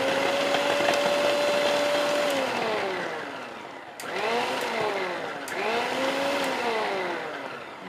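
A kitchen mixer fitted with a smart chopping attachment chops vegetables: a close, loud motor whine runs steadily, then winds down and spins back up twice in short bursts.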